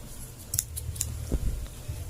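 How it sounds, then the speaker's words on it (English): Scissors cut crochet yarn off a piece of work, a few quick close snips in a short burst over quiet room tone. "then just chain 2 and then just cut off your yarn"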